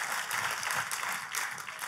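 A church congregation breaks into steady, enthusiastic applause during a worship service, a dense wash of clapping that holds at an even level throughout without any talk over it.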